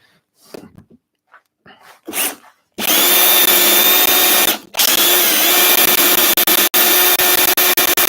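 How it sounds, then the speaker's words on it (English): A drill bores into wood with a large Forstner bit, starting after a few short bursts and then grinding loudly and continuously, with one brief pause before the cutting resumes. "It's still drilling. This is FORSTNER."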